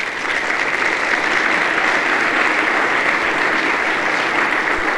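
A congregation at a Sunday church service breaks into loud, dense applause that holds steady and close for the full five seconds, with no voices rising above the clapping.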